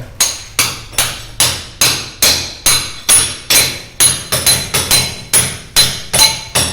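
A hammer pounds old wall tiles and set cement in a kitchen, delivering loud, sharp blows in a fast, steady rhythm, roughly two or three strikes per second, with no talk.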